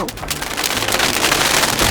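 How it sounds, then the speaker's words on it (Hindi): Steady rain patters loudly and continuously, a dense hiss of drops on surfaces with no voices. "यहाँ तो बारिश हो रही है"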